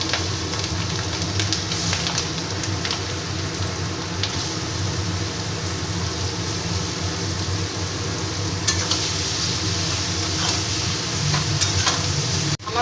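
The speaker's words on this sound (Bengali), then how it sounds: "কাঁচা লঙ্কার চেরাটা আমি একটু নেড়ে নিয়ে তার আমি লাউ লাউগুলো দিয়ে দেবো" Green chillies and bottle gourd are stirred in a pan of frying spices, giving a steady, close sizzle with faint scraping of the spoon throughout and no voices.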